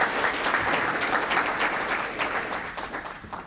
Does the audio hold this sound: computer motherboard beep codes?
no